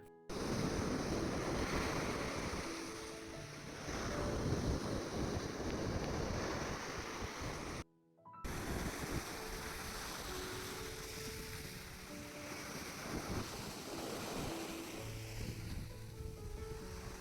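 Sea waves wash onto the Bohai Sea shore at a resort about 300 km from Beijing, a steady, loud surf roar mixed with wind buffeting the microphone, broken by a brief dropout partway through.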